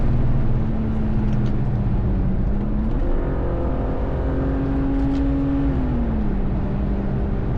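A BMW M3 E36 engine revs up and down steadily, loud and close, its tone rising and falling in smooth sweeps with no voices.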